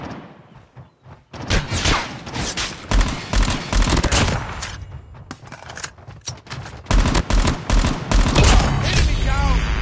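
Gunfire in Call of Duty Mobile on the Frontline Hijacked map, loud rapid automatic bursts and single shots in quick succession with short gaps, close and punchy, with occasional game voice callouts underneath.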